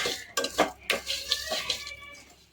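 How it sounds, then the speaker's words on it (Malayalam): Spice powders roast in a pan for a turkey berry curry, heard as a quick series of metal spoon scrapes and clinks against the pan over a faint sizzle. "അതുകൊണ്ട് ഒന്ന് നന്നായിട്ടൊന്ന് പൊടികൾ അതിൽ വറുത്ത് എടുക്കാം"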